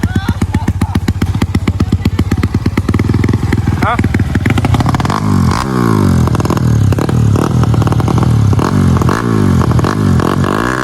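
Honda Wave 125 and Honda Sonic motorcycles launching side by side in a Thai drag race, engines revving hard and loud up close, with a steady rising exhaust drone and some mechanical clatter.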